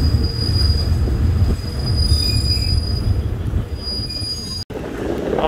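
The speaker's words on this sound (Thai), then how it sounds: "ออกจากสถานีรถไฟโยธากาแล้วนะครับ" Thai ordinary passenger train 277 on the Bangkok–Kabin Buri line leaving Yothaka railway station, its wheels squealing loudly and steadily over a low rolling rumble, with one brief dropout near the end.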